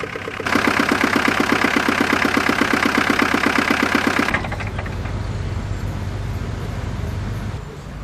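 A small MAN tractor engine idles with a rapid, steady chugging pulse, then the tone drops and roughens as the engine settles lower, continuing close and loud.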